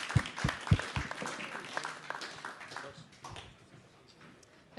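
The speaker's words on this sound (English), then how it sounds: "So let's give them a round of applause." Audience applause at an Oslo Freedom Forum theater talk, welcoming two speakers to the stage: a dense patter of clapping with a few stronger thumps at the start, gradually thinning toward the end.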